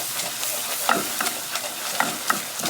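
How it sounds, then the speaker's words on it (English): Flour being stirred into a hot pan to form a golden roux-like paste, a spoon scraping in quick strokes over a steady background sizzle, with a few sharper clicks against the pan; no talking. "So now we're going to add the flour, and you're going to mix this"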